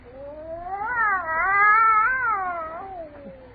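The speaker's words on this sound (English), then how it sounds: "That cat." A single long, loud cat yowl in a radio drama that swells and wavers in pitch, peaking midway before sliding down and fading, with no other sounds in a quiet house.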